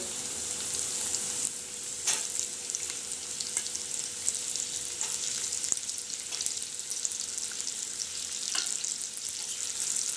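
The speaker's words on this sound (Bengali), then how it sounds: "গাজরটা আমি একটু ভেজে নেব" Steady, close sizzling of chopped carrots frying in hot oil, with occasional crackles and soft stirring scrapes throughout.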